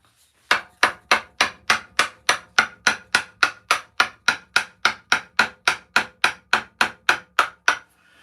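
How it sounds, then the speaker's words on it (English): A wooden mallet drives a woodcarving gouge in a long, steady run of about two dozen sharp, evenly spaced knocks, each ringing briefly before the next, close and loud with no talking. "Let's get the mallet. There's my wooden mallet."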